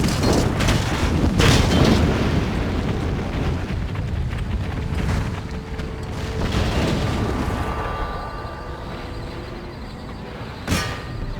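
Rolling artillery bombardment on a Napoleonic-era battlefield in Empire: Total War, with dense overlapping booms and rumbling that slowly thins out, and a sharp single crack near the end.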